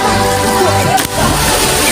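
Spring water runs steadily into a swimming pool, a continuous close wash of flowing and sloshing with a brief dip in the middle, no talk.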